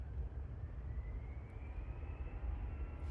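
A Lufthansa Airbus A380 airliner bound for Los Angeles, heard as a faint, steady distant jet rumble with a slowly rising engine whine.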